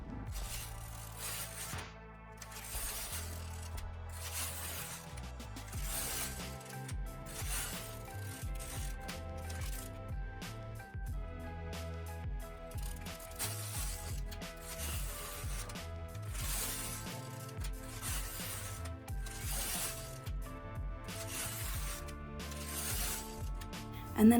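A knitting machine carriage is pushed back and forth knitting rows at tension 5.5, producing repeated rattling, ratcheting mechanical sweeps with clicks and whirs in an irregular back-and-forth rhythm, moderately close.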